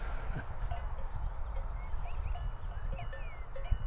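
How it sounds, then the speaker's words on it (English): Several cowbells worn by horses clank and ding irregularly outdoors, fairly close, over a low rumble of wind and movement. "one with horses wearing cowbells"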